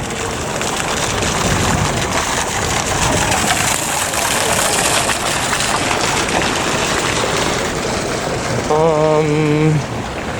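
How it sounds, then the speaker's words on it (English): Outdoor fountain on the Santa Monica Promenade, water spraying from a statue's mouth, giving a loud steady splashing rush throughout, with a brief tonal mechanical hum near the end. "we have another one of these things with the water shooting out of the mouth. Another fountain."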